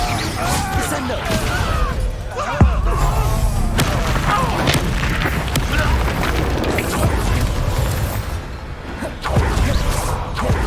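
A Descendo spell strikes in the game Hogwarts Legacy, landing as a sharp, loud boom early on amid a dense bed of crashing game effects, with voices heard through the clip.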